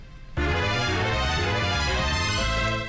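Intro of a battle theme from Golden Sun, with the bass line and synth melody playing together: after a brief quiet lead-in, a loud, dense passage of bright synth over pulsing low bass notes.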